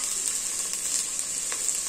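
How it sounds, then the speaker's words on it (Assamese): Onions fry in a pan with bay leaf and spices for a masala soya chunk dish, giving a close, even, continuous sizzle with light crackles and no talk. "এতিয়া পিঁয়াজখিনি ভালদৰে ভাজি লওঁ"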